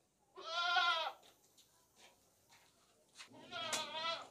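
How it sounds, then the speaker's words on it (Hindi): Two loud, wavering bleats from a male goat offered as a sacrificial animal, one near the start and another near the end, with faint rustling and scattered small noises between them. "ये देखें, ये बकरा है"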